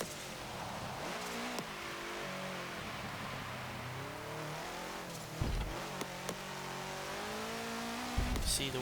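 A 1968 Abarth 595 in Forza Motorsport 7 screams along near its top speed, its engine holding a high, wavering drone with a few brief bumps and squeals over the steady roar.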